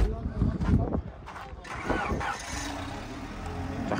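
Imported engine of a used 2002 1.7-litre car runs at an open car market, a mid-pitched rough churning with a few louder surges early, then settling into a steadier hum while people talk nearby.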